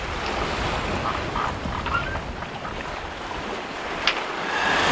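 Steady wind rushes over a sailboat under way, a constant broadband roar of air with the soft wash of water beneath and a faint creak or two, with no voices.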